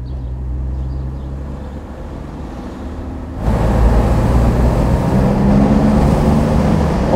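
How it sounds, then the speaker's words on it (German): A 1965 Mercedes 300 SE Cabriolet engine runs steadily at low revs while driving, with a sudden louder, fuller rise in engine noise partway through. "Klingt auch gut, hat einen tollen Sound, der 300 SE."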